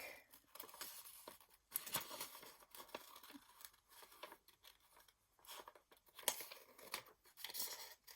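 Scissors snip through paper while a picture is cut out for a collage: quiet, close, irregular crisp cuts and rustles with short pauses between bursts.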